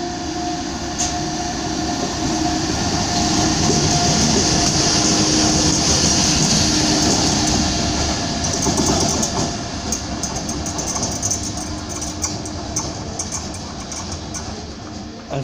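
A DB class 245 diesel locomotive shunting at a German main station, heard as a loud, steady rumble and rolling rail noise that fills the whole stretch with no voices.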